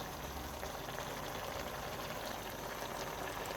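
Grated carrots for gajar ka halwa cooking in a pan, a steady, dense sizzling and bubbling as the liquid cooks off, continuous and fairly loud with no talking.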